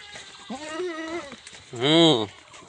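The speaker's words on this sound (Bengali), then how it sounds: "তুতাপুরি ছাগল, এইটা বকছে।" A Totapuri goat bleats twice nearby, a wavering mid-length cry followed by a louder, fuller one.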